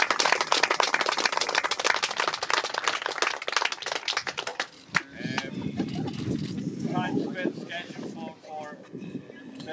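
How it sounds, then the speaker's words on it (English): An audience claps in a dense, loud burst of applause for about five seconds, then it thins into scattered claps with voices talking and some wind noise. "applause."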